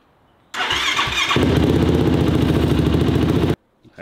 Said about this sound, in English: the first step is to let the bike idle, probably just a couple minutes, just to get the oil moving